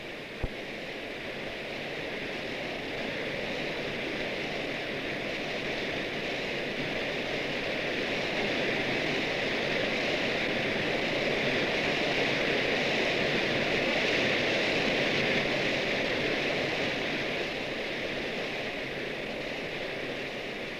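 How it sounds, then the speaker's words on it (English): The great Nachi waterfall in Japan sends out a steady, even rush of falling water, a full broadband roar that holds constant throughout with no voices. "The great waterfall of Nachi, itself a kami of overwhelming significance in the local cult, is shown much as it would appear to the eyes of a pilgrim visiting the site"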